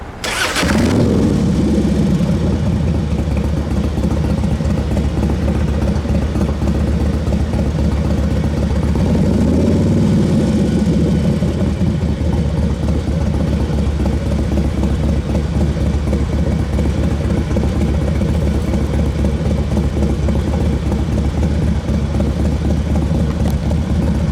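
A 2005 Harley-Davidson Dyna with a rebuilt, carbureted power train cranks and fires, then settles into a loud, steady, close-up idle that holds, with a slight surge partway through.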